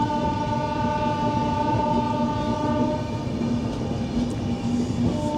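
A train runs on the Kalka line, a steady rumbling roll with clattering wheels and a horn tone sustained throughout, close and loud with no talk.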